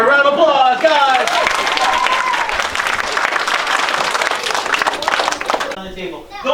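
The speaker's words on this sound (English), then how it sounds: "Give her a round of applause, guys!" A small audience at a close-up magic performance gives a sustained round of applause lasting about five seconds, with a voice speaking briefly before it begins and again as it dies away.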